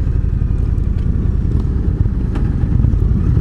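A 2019 Indian Chieftain Darkhorse motorcycle rides along a highway, its engine giving a steady, loud, continuous low rumble without pause or talk.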